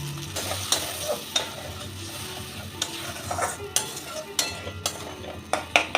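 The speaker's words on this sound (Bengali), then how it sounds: "জল দিয়ে আর একটু কষিয়ে নেব।" Tomato spice masala with turmeric, Kashmiri chili powder and a little water stir-fried in a pan, a soft steady sizzle broken by repeated sharp scrapes and clinks of a spatula against the metal.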